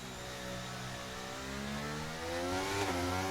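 Several racing cars in a rally video game drone and rev steadily, their engine pitch climbing toward the end, with no voices over them.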